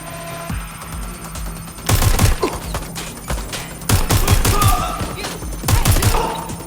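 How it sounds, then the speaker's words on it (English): Gunfire in the video game Watch Dogs: Legion, arriving in three dense bursts of rapid shots over a steady game background, loud and close. "Shots fired!"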